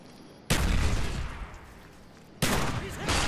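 Gunfire in the Call of Duty Black Ops video game: two loud bursts of shooting, the first running about two seconds and fading, the second breaking in sharply near the end, with faint background sound between them.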